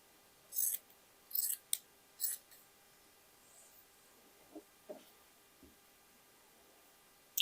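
Scissors cut fabric pieces for a tie, giving several quick, crisp snips close by in the first half, followed by a few softer handling rustles in an otherwise quiet room.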